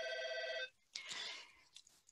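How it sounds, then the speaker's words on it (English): A telephone rings loudly during an online webinar, a bright electronic trill that cuts off abruptly and is followed by a short burst of rustling noise. "Sorry about the phone."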